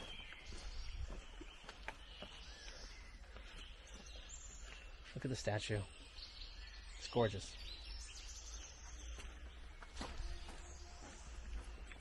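Faint birds chirp in the background of a cemetery in Przemyśl, Poland, while a person talks nearby.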